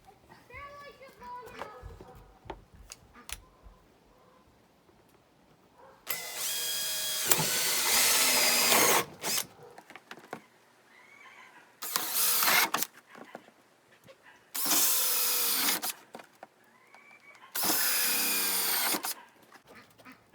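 A power drill bores holes through plastic backed by a solid board for a quail feeder and water system, four loud whirring bursts of a few seconds each separated by quieter pauses with talk and small handling noises.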